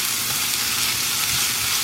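Ingredients sauté lightly in a pan as the base for a Tamil kuzhambu, giving a steady, close, continuous sizzle with no break.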